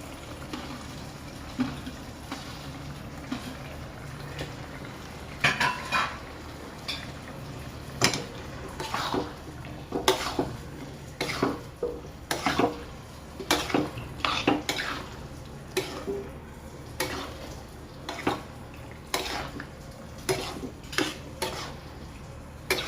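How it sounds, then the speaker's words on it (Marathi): Prawns stirred into a thick masala in a pan for a prawn masala fry, with repeated clanks and scrapes of a spoon against metal over a soft low sizzle, steady and close throughout. "आता आपण टाकूया प्रॉन्स"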